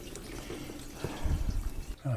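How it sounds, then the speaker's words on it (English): A hose runs water into a motorhome's fresh water tank, a soft splashing trickle heard close while someone talks over it. "Okay, filling up the water."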